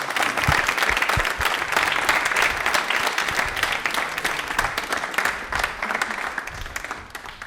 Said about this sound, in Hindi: तालियां पे बजा दीजिए इनके लिए